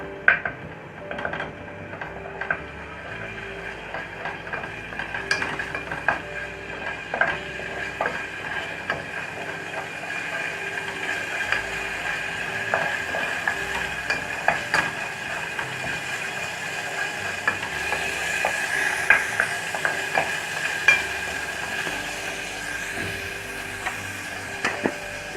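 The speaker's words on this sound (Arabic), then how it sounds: "يا دوب بس هقلي او هشوح التومه بتاعتي في قطعه من السمنه صغيره" Minced garlic sizzling in a small knob of ghee, a soft steady frying hiss with occasional clinks of a spoon stirring in the pan, close and fairly quiet with no talk.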